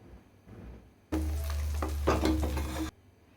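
Tomato, turmeric powder and fried ingredients stirred together in a hot pan, a sudden burst of close sizzling and scraping that holds for about two seconds, then cuts off, with no talking.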